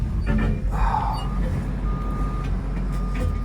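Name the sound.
wrecker tow truck reversing beeps at race track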